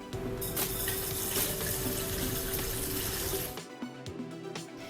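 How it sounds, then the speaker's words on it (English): Compost tea is poured through a strainer, giving a continuous rushing, splashing flow of liquid that runs steadily and then thins out and trickles in the last second. "And now, just like tea, we're gonna strain it."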